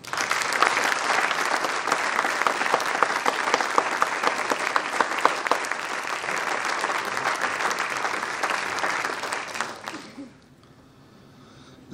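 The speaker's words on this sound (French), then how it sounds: "Je crois que nous pouvons l'applaudir." Audience applause at a mayor's New Year address in Capbreton: dense, loud, sustained clapping from a large crowd for about ten seconds, then fading abruptly into quiet room tone.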